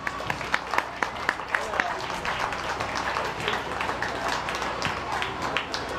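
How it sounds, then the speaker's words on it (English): Audience applause at a county fair goat show, a steady patter of many hands clapping at moderate distance, with a few sharper individual claps and some voices mixed in. "Give this young lady a round of applause."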